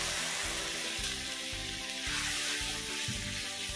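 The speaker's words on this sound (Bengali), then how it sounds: "এবার সবগুলি একসাথে করে ভালো করে কষিয়ে নেব। আমি অল্প একটু জল দিয়ে দিচ্ছি," Spice masala for a jackfruit kofta curry sizzles hard in a pan just after a little water is added. The frying hiss is loud and steady from start to finish, with no talking.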